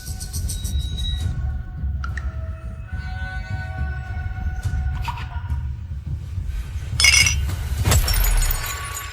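Glasses clink together in a toast, a bright ringing chime that stands out briefly near the end over a low steady background murmur.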